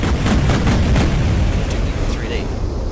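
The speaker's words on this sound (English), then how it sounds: "Duke Nukem 3D explosions" Explosions from the Duke Nukem 3D video game: a dense, loud, continuous rumbling barrage of booms with rapid crackling bursts, sustained throughout with no pauses.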